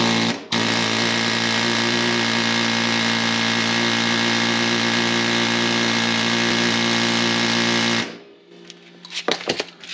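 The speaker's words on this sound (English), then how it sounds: "Take the air chisel here. I know it's going to be loud for you guys" A pneumatic air chisel hammers on a seized dog bone mount while removing the V8-60 engine from a 1937 Ford Touring Sedan: a loud, steady buzzing rattle for about eight seconds, then stopping, followed by a few scattered knocks.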